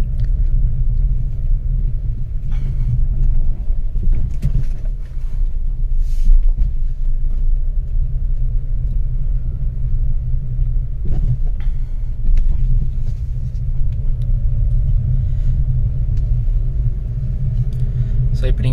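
Maruti WagonR AMT automatic hatchback pulling away and driving in first gear, a steady low engine drone and road rumble held throughout, with occasional faint knocks over the continuous hum.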